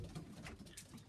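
Young pigeons coo softly in a loft, a few low murmuring calls close by, quiet overall and with no voices.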